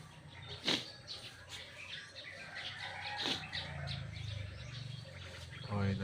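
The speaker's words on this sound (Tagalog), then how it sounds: "ingay ng mga ibon." Outdoor ambience in Tuguegarao City, Cagayan, with scattered bird chirps and calls, a couple of sharp nearby tweets, over a low background hum.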